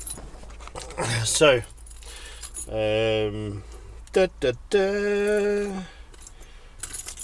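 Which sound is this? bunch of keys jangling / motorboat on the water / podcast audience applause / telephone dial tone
bunch of keys jangling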